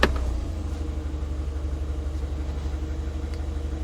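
A car engine with a manual choke fully off idles steadily with a low, slightly pulsing rumble, close and continuous, no voices.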